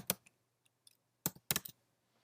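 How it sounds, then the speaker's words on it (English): A few sparse keystrokes on a computer keyboard while entering HTML in a web design lesson: scattered single clicks, then two quick clustered bursts, quiet and close in an otherwise silent room. "So let's go ahead and type in"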